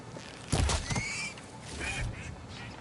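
A duck in the video game Horizon Forbidden West quacks in short nasal bursts, a louder pair near the start and softer ones after, over quiet game ambience.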